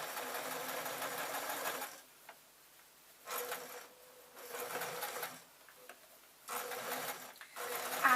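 A sewing machine stitches a grab bag's lining and interfacing in bursts, its motor whirring steadily for a second or two, stopping briefly, then starting again, close and fairly loud.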